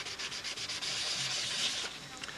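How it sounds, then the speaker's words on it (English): Sandpaper rubbed back and forth over a model airplane wing, Brodak dope finish, close and steady with a continuous gritty hiss and faint rhythmic strokes, no voices. "I'm using a different piece of this, different edge of the sandpaper for each bay"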